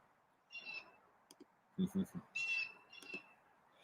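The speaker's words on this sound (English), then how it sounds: "Bird fight." A crow and another bird squabble in Texas, giving a few harsh squawks and raspy calls in brief bursts, with some clicking in between.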